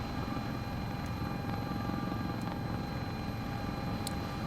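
Steady, loud rotor and turbine drone of a Sikorsky S-76 helicopter in Microsoft Flight Simulator, a constant cockpit roar with a faint high whine and a few soft clicks, no talk.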